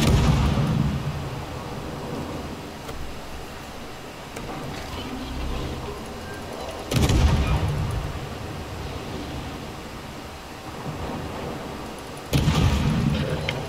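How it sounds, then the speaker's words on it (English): Warship guns firing in the video game World of Warships: two heavy booming salvos rise out of a constant rumbling battle noise, several seconds apart, with voices talking over the scene. "I got two guys up here coming at me. They're shooting at me."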